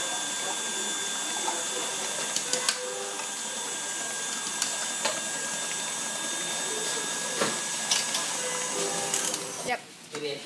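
An electric mixer beating condensed milk cheesecake filling, a steady motor whir with a high-pitched hum, sharp clicks and taps against the bowl, and a brief dip in the noise near the end.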